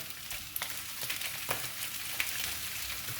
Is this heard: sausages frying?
yes